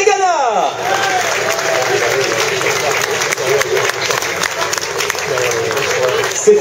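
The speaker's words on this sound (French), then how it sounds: "les applaudissements du public de Vence pour Stéphane Diagana" A crowd in Vence applauds at a Paris-Nice event, sustained clapping and cheering mixed with an announcer's voice over a loud public address system.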